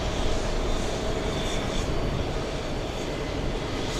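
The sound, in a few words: airliner taxiing to the takeoff runway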